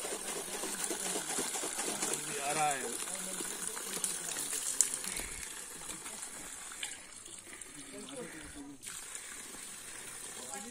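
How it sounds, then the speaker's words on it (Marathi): Water flows steadily on a steep mountain trek, a faint, continuous gush and trickle with people's voices talking over it. "फायनली पाणी फायनली पाणी"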